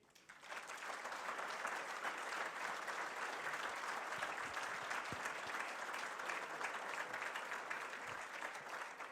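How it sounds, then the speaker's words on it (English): A debate audience at an oil and gas association gubernatorial event breaks into sustained applause, a full, even roar of many hands clapping together that swells in quickly and holds steady to the end. "let's give them another round of applause for being willing to stand up and serve our state"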